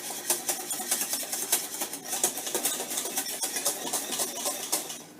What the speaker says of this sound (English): So that's thickening up nicely, so I'm going to whisk it a bit more, get those lumps out.